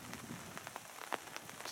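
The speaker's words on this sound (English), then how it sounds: "Just packing up in the rain at Blackhall." Rain patters at a bush campsite in Welford National Park during pack-up, soft scattered drops ticking on surfaces, faint and close with no voices.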